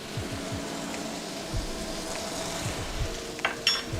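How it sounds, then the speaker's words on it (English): Curry powder and turmeric fry in chicken fat and oil, a soft continuous sizzle with low stirring thumps and scrapes close by and a few sharper clinks near the end. "I'm adding my dry spices here to the chicken fat and oil"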